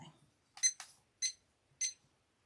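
Three short, sharp electronic beeps sound at an even pace, close and fairly faint, in a quiet room where dragon molds are being filled with mica-tinted resin. A short vocal sound comes just before the beeps.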